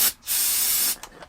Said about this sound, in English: do we just give it a little snort of brake clean, see what it does?